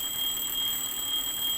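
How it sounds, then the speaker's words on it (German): A small electronic alarm beeps steadily from a supply bag in the video game Firewatch, a bright continuous tone ringing alone. "Wieso ist denn da so ein Alarmding dahinter?"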